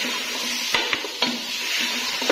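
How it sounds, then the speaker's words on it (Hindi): Mutton paya being browned with garlic in a pot, with a steady low sizzle broken by several sharp clinks and scrapes of a spoon stirring against the metal, close and moderately loud, with no voices. "तो अच्छे से हम भून लेंगे, ये जब तक लाइट ब्राउन नहीं होते हम इसको भूनते रहेंगे।"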